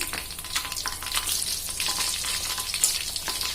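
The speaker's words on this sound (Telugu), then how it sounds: "ముందుగా వేసుకున్నవి ఇప్పుడు వేసుకున్నవి కలిసి వేగుతాయి" Fish pieces, washed with salt and turmeric, fry slowly in oil for a fish pickle, producing a close, bright crackling sizzle with small popping bursts throughout and no talking.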